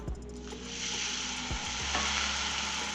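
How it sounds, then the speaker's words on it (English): A rack of lamb sears in olive oil in a hot pan, giving a steady, dense, close sizzle throughout with a few low bumps as the meat is pressed down. No one speaks. "pressing it down into the pan. I'm gonna let this cook off for about 5 minutes on this side"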